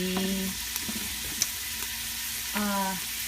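Food sizzling and crackling in a pan, a continuous hiss with a few brief voiced sounds or hums over it.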